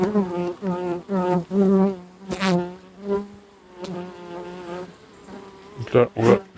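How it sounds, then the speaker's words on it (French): Honeybees from a populous colony buzz at a small nucleus hive on a dull day. A dense, droning hum pulses in waves, loud and close, with a few sharper bursts and no talk. "c'est une colonie qui est très populeuse"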